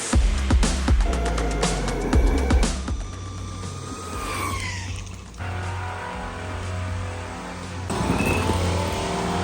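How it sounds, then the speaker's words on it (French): A car drives past loudly on a road, its engine roaring close by with a rising then falling pass, followed by quieter road and traffic ambience. "lui avec sa caisse, il fait plus de bruit que moi"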